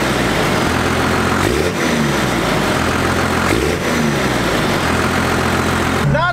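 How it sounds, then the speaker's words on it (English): An engine revved hard several times, each blip of the throttle swelling then dropping back to a steady idle, loud and close throughout. "what we're gonna do is rev this up a couple times so you can see the visible smoke that this thing blows every time you hit the throttle now"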